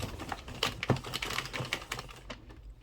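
A 22-pin knitting machine carriage slides across the needle bed with no yarn in the feeder, producing a rapid, dense run of close clicking and clattering lasting a couple of seconds before stopping.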